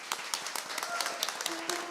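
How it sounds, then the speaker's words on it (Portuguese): A crowd at a CEJUSC institutional event gives brief, dense applause, a close patter of many hands clapping at once. "eu peço uma salva de palmas"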